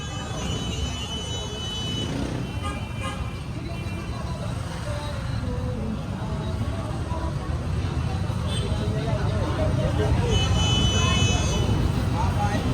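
Busy street traffic in a crowded Tondo market area lined with sidewalk vendors, with a steady roar of engines, short horn toots and crowd noise throughout, and people talking over it.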